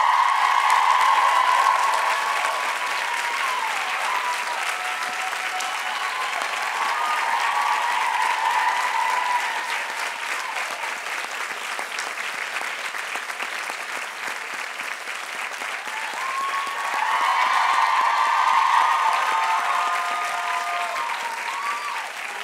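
A college commencement audience applauds to welcome a speaker onto the stage, a dense and sustained clapping that swells and eases over about twenty seconds with no talk over it.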